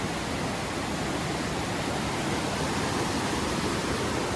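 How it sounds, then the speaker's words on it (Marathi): A dense, unbroken rush of the fast-flowing Marleshwar river, loud and close, with no other sounds. "ही आहे मार्लेश्वर नदी तुम्हाला आवाजावरूनच अंदाज आला असेल की पाण्याचा प्रवाह कसा आहे किती जोरात आहे"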